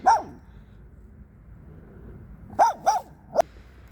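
A dog barks excitedly at two other dogs in a nearly empty park on a snowless winter day: one bark at the start, then a quiet pause and a quick run of three sharp, close barks.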